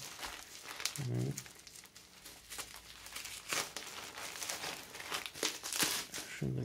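Packaging from a bamboo two-tier rotating six-jar spice rack set crinkles and rustles while being unpacked, with close, irregular crumpling and occasional tearing sounds throughout and brief murmured speech.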